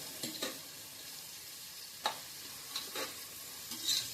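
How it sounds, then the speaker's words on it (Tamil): Green chillies sautéing in a pan for vegetable biryani give a low steady sizzle, with a few brief stirring scrapes and utensil taps close by and no voices. "பச்சை மிளகாயும் சேர்த்து போட்டாச்சு அப்படியே வதங்கிட்டு இருக்குது"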